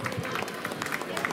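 Brief burst of audience applause at an award ceremony following a San Silvestre race in Milagro, a close, even patter of clapping hands.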